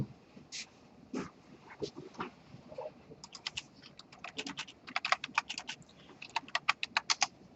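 Rapid typing on a computer keyboard, sparse clicks at first that build into dense bursts of keystrokes toward the end, with a dog's faint whimpers and brief speech-like sounds in the background.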